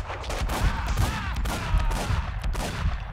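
Gunfire in the Max Payne 2 video game during a construction-site fight: a burst of several sharp, loud shots in quick, uneven succession with echoing tails.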